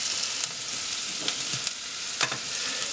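Onions fry in a pan until they turn translucent, giving a steady close sizzle broken by a few soft stirring scrapes, with no talking.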